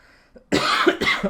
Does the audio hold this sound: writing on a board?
no